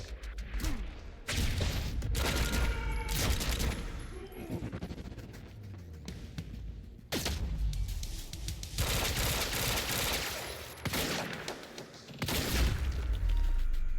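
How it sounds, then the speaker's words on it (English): Sustained automatic gunfire and heavy impacts in the Quantum Break video game, loud bursts of shooting broken by short lulls, with faint voices underneath. "I'm getting reports of gunfire in the underground parking"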